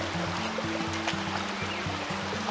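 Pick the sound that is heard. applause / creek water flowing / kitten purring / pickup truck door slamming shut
creek water flowing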